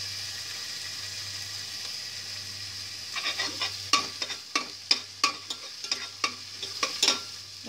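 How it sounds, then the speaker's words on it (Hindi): Ginger and garlic frying in a pan for cauliflower Manchurian: a soft steady sizzle, then a series of close, rhythmic scraping stirs with a spatula, with no one speaking. "अदरक फ्राई हो रहा है"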